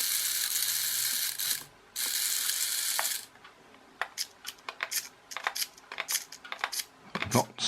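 Micro RC 360 wheelie stunt racing car running on 49 MHz, its small motor and gears giving bursts of high whirring and clicking, steady at first, then short stop-start spurts as it steers and reverses.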